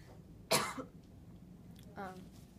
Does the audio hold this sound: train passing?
no